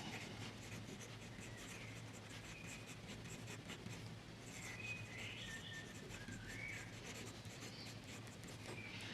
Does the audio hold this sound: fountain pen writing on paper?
yes